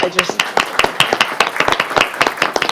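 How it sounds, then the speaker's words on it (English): A council meeting audience gives a round of applause, many hands clapping in a dense, steady burst at close range. "I just have to give you a round of applause"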